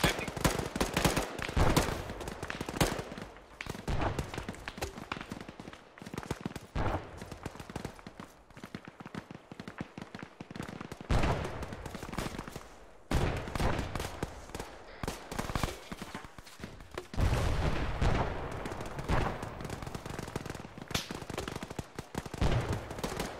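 Dense, sustained gunfire in a video game firefight: rapid bursts of automatic and rifle shots crack close and loud almost without pause, with brief lulls and faint voices under the shooting.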